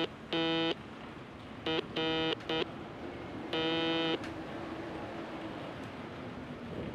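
Morse code beeps from Daymare: 1998, a video game, sound as loud steady electronic tones: a long tone, a cluster of short and long tones, then a final long one over a low background hum.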